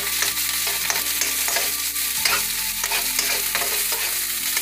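Onion frying and being stirred in a pan for tacos dorados, a steady close sizzle with repeated scraping stir strokes throughout, no talking.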